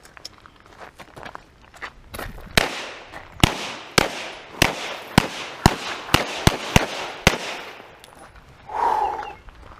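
A 1917 Mauser C96 Broomhandle pistol in 7.63x25 fires more than a dozen sharp, close shots at a range in an uneven, fairly quick sequence, followed by a brief softer noise at the end.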